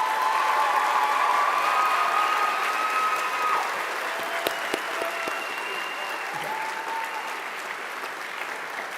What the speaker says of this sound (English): Please give my teachers a round of applause.